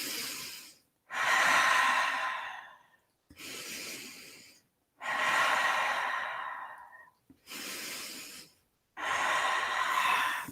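Slow, deep breaths during a seated yoga twist in a studio: five long, audible exhales and inhales like sighs, each lasting one to two seconds with short silent pauses between, close and clear.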